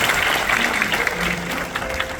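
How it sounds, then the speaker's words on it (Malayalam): An audience claps with dense, even applause from many hands at close range, sustained without a break. "അതിനൊക്കെ നിങ്ങൾ കൈ തട്ടണം, അതിലൊരു സന്തോഷമുണ്ട്"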